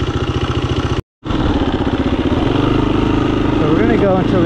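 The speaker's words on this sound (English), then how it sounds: "No, let's go dirt bikes." A dirt bike engine idles loud and close with a steady pulsing throb, cuts out briefly near the one-second mark, then comes back with a rising rev near the end; a voice speaks over it.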